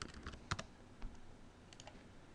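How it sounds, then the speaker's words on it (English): Quiet typing on a computer keyboard, a short irregular burst of soft key clicks with one sharper tap, heard alone without speech. "for the label I'll start typing in first loop"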